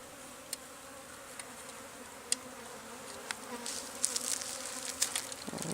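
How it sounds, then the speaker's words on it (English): Honey bees buzzing around a birdhouse used as a hive on a sunny Florida day, a steady close insect drone with individual bees zipping past the microphone. "The bees are flying."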